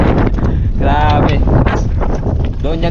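Strong wind gusts over a small boat at sea near an island in the Philippines, roaring and buffeting the microphone loudly and continuously, with talk and splashy rustles mixed in.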